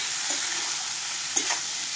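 Pea curry with goat skin fries in a pan, keeping up a loud, steady sizzle throughout while a utensil stirs it, adding a few light scrapes and knocks against the pan.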